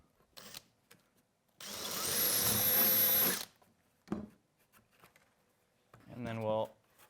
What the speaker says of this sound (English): So I'm going to go ahead and drill the holes.